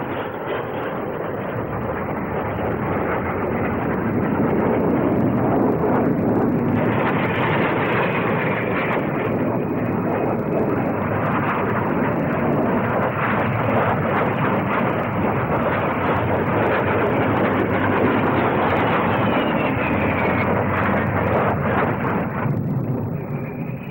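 Jet Provost RAF jet trainer flying at the 1959 Farnborough SBAC airshow, a loud continuous roaring engine wash that swells and holds for over twenty seconds, with no voices.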